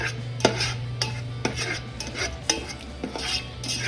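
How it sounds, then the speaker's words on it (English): Butter melting in a pan is stirred with a utensil, giving a run of sharp clinks and scrapes against the metal at roughly half-second intervals over a steady low hum, close and fairly clear, with no talking. "let that melt down, melt down, melt down. A nice little stir."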